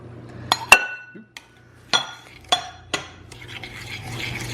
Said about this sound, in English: just mix your butter and your sugar together